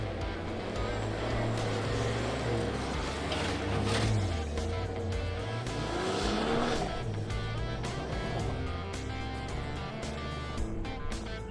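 A Toyota Land Cruiser engine revs hard while accelerating on the move, loud and steady throughout with rising and falling pitch sweeps, with tire and road noise mixed in.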